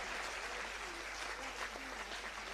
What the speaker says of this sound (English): Big round of applause for all these ladies.